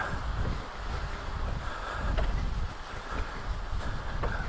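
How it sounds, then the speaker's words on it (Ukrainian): Steady, buffeting wind roars across the microphone on a walk toward coastal rocks in New Brunswick, Canada, before a storm, a dense rumbling hiss that rises and falls slightly but never lets up. "Правда, вітер, очевидно, буде шум чути."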